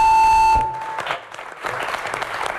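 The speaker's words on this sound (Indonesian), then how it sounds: "Oke, kita berikan tepuk tangan." Studio audience at a political talk show breaking into scattered applause after a steady electronic tone cuts off, the clapping moderate and a little uneven.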